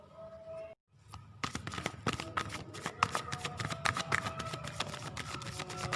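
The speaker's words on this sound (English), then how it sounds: "I am going to shuffle and see your reading" A Rider-Waite tarot deck is shuffled close up, with a brief pause and then a steady run of crisp, rapid card riffles and flutters that continue throughout without talk.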